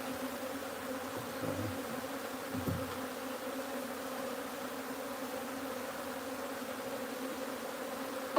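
Honeybees from a wild hive being moved into a new home buzz steadily in a dense drone, with a couple of individual bees passing close, fairly faint and continuous with no talk.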